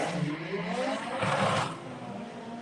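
A Vauxhall Corsa drag car launching off the line at a drag strip, a short engine roar rising in pitch then fading with a brief scraping burst, heard from a distance without speech.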